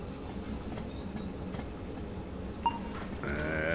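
A train in the video game Derail Valley, with a steady low rumble and scattered faint clanks, then a brief sharp knock near the end as a tonal whine and hum swell slightly louder.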